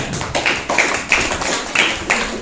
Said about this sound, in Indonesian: Tepuk tangan para peserta lainnya